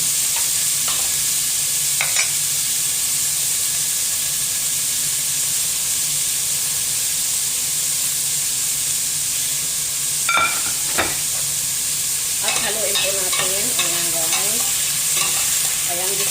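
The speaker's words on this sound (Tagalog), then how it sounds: "Half cook ng ating hipon." Shrimp and other ingredients sautéing in a pan for sotanghon, with a loud, steady sizzle and hiss throughout, a few brief clinks and scrapes, and no talk.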